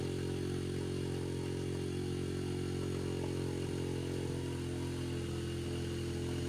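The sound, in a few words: Yamaha TTR50 engine running on remaining fuel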